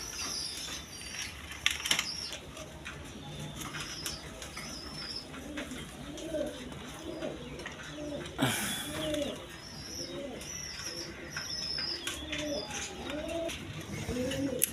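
Several domestic pigeons, including a green-coloured male kept for sale, coo repeatedly in a loft with soft rolling calls, close by, with chirps and a brief flap of wings.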